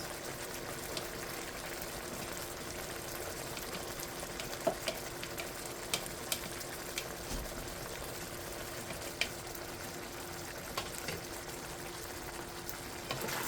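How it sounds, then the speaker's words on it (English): Pork adobo with onions simmers and sizzles in a pan, a steady low bubbling and frying hiss with occasional small pops and a few faint utensil taps, no voices. "So it's reducing, and the gravy is getting thick, and the onions are cooking."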